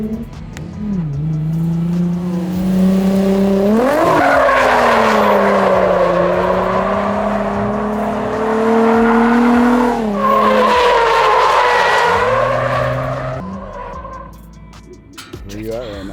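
Car drifting at a drift day, engine revving hard as tires squeal and skid in long sweeping bursts, rising and falling over the whole stretch, loud and close.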